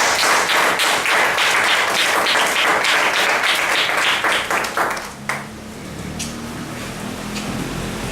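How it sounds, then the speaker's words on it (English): An audience at a formal address applauds loudly with dense, steady clapping for about five seconds before it dies away into low room noise. "Please welcome her with a big round of applause."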